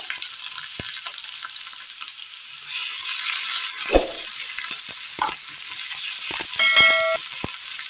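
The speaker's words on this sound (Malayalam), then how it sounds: "ചൂടായ വെളിച്ചെണ്ണയിലേക്ക് കടുക് ഇട്ട് കൊടുക്കാം. ചുവന്നുള്ളി ചതച്ചത്, വെളുത്തുള്ളി ചതച്ചത്," Mustard seeds, crushed shallots and garlic fry in hot coconut oil, giving a steady soft sizzle with sharp seed pops and a few light clinks of a utensil against the pan, close and without speech.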